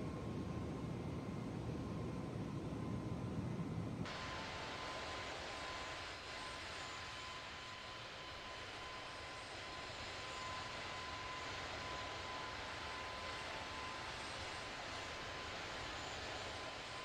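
An Airbus A320's engines drone steadily at Nice Airport in Microsoft Flight Simulator, a loud, even roar with a faint whine on top. The sound drops slightly in level after a few seconds, then holds without pause and with no voices.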